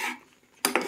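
Corn rice being stirred in a pot: a brief scrape of a utensil against the pot, a short pause, then a louder clatter, all close and under a second long.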